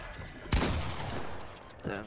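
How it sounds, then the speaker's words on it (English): Gunfire in the video game Fortnite during a 2v2 match: one sharp, loud burst near the start and a second shorter shot near the end, over steady game background. "They're shooting down too."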